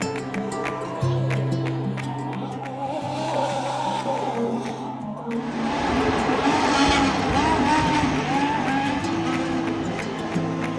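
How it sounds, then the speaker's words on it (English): Formula 1 cars racing at the Spanish Grand Prix, with dense engine roar and passing cars building louder midway and staying loud to the end, with faint voices in the background. "Hearing and seeing those cars on the strip here, absolutely insane"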